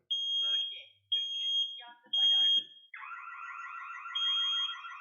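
An Opax ARD-575 alarm panel, set off by a wireless water leak detector, sounds close by: three short bursts of high electronic beeping, then a continuous warbling siren tone that keeps going.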